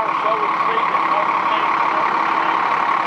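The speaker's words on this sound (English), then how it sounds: "Engine's running." A 2004 Tradewinds 7395LTC motorhome engine idles as a steady, even drone for the whole stretch, with no other sounds standing out.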